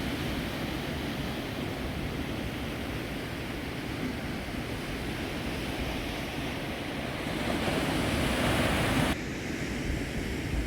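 Waves surge and wash steadily at a very small beach below cliffs, a broad continuous roar with some wind buffeting the microphone, loud and close throughout.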